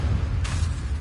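A Bombarda blast spell from the video game Hogwarts Legacy goes off as a single short, bright explosive burst over a steady low background rumble.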